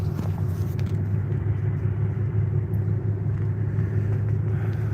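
A car driving on a road in the evening, heard from inside as a constant, loud, low road-and-engine rumble with steady tire noise and no talking.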